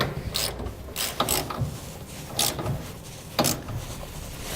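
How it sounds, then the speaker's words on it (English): A socket wrench ratchets in short bursts while tightening 5/8-inch frame bracket bolts on a B and W gooseneck trailer hitch under a 2015 GMC Sierra 3500, with close, crisp clicking strokes separated by brief pauses. "we'll now tighten down our frame brackets, starting with the 5/8 diameter bolts using a 15/16 socket on the nut"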